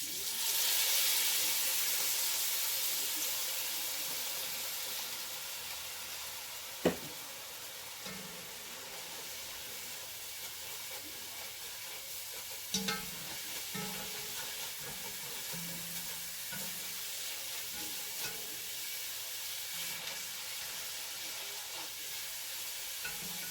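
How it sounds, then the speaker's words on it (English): Red wine hissing and steaming in a hot pan of browned onions and garlic, a broad steady sizzle that swells at the start and then settles, with a few soft scrapes and knocks as the bottom is deglazed. "I am going to put in some red wine and deglaze the bottom of this"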